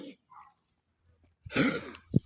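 A tired dog gives a short burst of rough, hacking coughs close by after a short run, ending in a sharp final hack, after some quiet.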